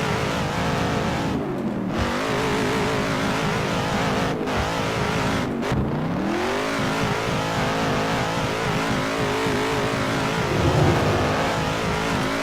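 Car engine revving and changing pitch as the driver accelerates, shifts and fights a car that steers poorly, with tire squeal; loud, close and continuous throughout.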